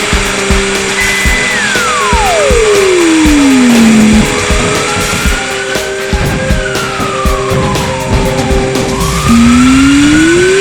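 A cartoon fire engine siren wails loudly at a fire scene, sweeping up and down in long pitch glides over a busy background of noise and music.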